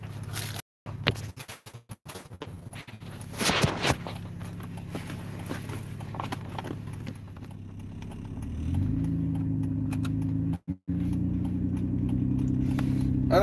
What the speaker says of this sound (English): Back in the vehicle and onward we go.